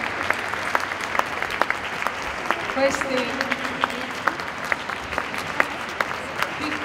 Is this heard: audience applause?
yes